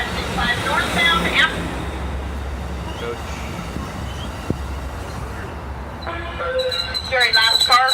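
A northbound Amtrak passenger train rumbles past nearby, steady low roar with metallic wheel squeals and brief high tones near the end.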